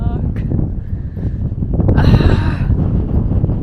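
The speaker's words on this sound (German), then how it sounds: "Wieso ist es so windig in Dänemark?" Gusty wind in Odense, Denmark buffets the microphone with a steady low rumble, rising around the middle, while people talk nearby.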